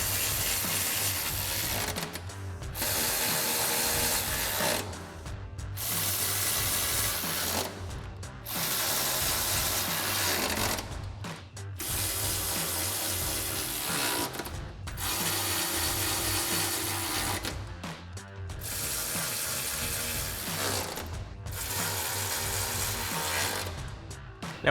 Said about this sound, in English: grab our 13mm socket on our ratchet and tighten all of them down